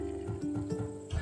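Horses in Assassin's Creed Odyssey, Macedonian battle-bred steeds at a stable, give soft low snorts and shuffling hoof sounds with faint mechanical clicks, quiet and close, with no talk over them.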